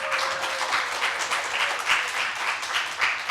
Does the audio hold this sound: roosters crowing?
no